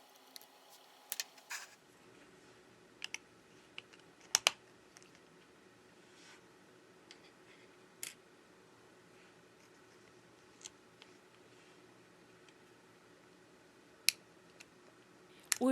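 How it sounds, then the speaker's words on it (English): Screws being removed one by one from the bottom section of a Samsung Galaxy Fold 3 during a repair, heard as sparse, close, quiet metallic clicks and ticks spread over a low, steady background hum. "With great care, we remove the screws from the bottom part and the plastic protector."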